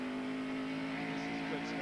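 A 1989 NASCAR Winston Cup stock car at Rockingham accelerating out of turn 1 after braking, a steady in-car engine drone with a strong low harmonic, continuous and moderately loud.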